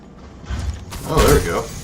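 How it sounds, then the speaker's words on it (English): Grapple gun in the Call of Duty Black Ops 4 Blackout game firing and reeling in, a mechanical ratcheting whir and creak that swells over about a second, with faint speech-like sound underneath. "How do I use the grapple gun?"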